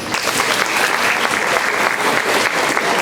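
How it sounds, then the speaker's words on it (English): Enthusiastic applause from a crowd at a middle school eighth grade awards ceremony in a gym with bleachers, loud, dense clapping filling the whole few seconds. "One more round of applause."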